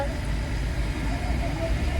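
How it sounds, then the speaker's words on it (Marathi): Cars sit in a traffic jam on a ghat road, heard as a low, steady rumble of engines and road noise close around, moderately loud with no distinct horn or pass-by. "आम्ही लग्नात चाललोय आणि एवढं सगळं ट्रॅफिक जाम झालंय"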